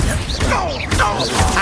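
A Bombarda blasting spell striking in the video game Hogwarts Legacy, a short magical whoosh followed by a crashing impact and a second swooshing burst, with rising tonal sweeps under game sound.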